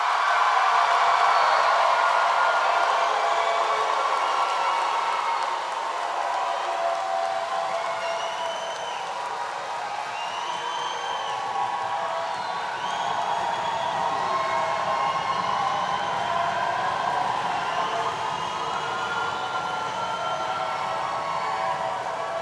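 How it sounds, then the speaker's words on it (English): Applause from the audience at a 2012-2013 Harris-Stowe State University commencement for the graduates: a steady, dense wash of clapping that holds for over twenty seconds with no voices over it. "I want you now to give the loudest applause that you can to these"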